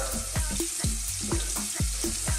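Onions and finely chopped garlic frying in oil in a pan, a steady close sizzle with repeated soft clatters and knocks as they are stirred, no voices.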